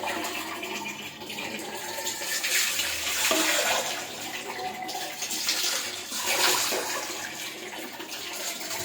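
Running water rinses hair mask out of long hair, a steady rushing shower-like flow swelling and easing with splashes as the hair moves under it, close and fairly loud, no voices.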